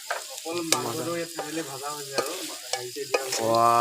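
Goat meat sizzles in a pan with onions, red chilli and spices while it is stirred, with scraping strokes over a steady tonal hum.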